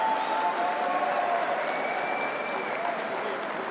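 A large convention crowd applauds, a dense, steady wash of clapping that carries on for several seconds, with faint cheers and voices rising through it.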